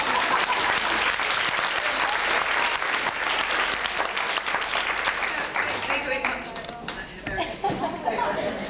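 Audience at the 1989 Clog & Step Dance Festival in Reading applauding and cheering the Steptones, continuous dense clapping that thins slightly toward the end, with voices audible through it.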